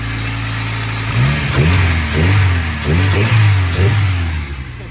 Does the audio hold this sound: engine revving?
yes